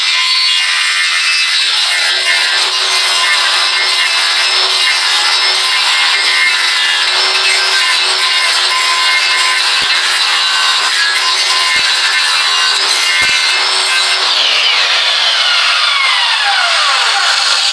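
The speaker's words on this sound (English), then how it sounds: "I'm using the circular blade as like basically smoothing it out from one side, and then I've got to smooth it out the rest of the way with the actual sander" A circular blade and sander smoothing wood shiplap inside a fifth-wheel travel trailer under renovation, producing a loud, continuous harsh whine held close up, with brief dips and a falling pitch near the end and no talk.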